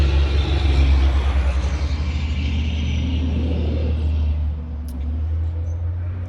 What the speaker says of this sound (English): Truck goes by.